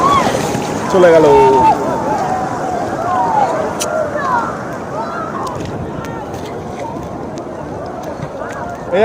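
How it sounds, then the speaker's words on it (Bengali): Sea waves break and wash up on the shore at Digha beach, a steady broadband rush of surf with people talking over it the whole time. "এই একটা ঢেউ দেখো,"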